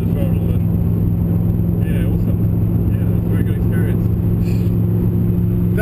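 A V8 race car engine drones loud and steady at Pukekohe track, a dense constant roar heard from inside the car, with no clear rise in pitch.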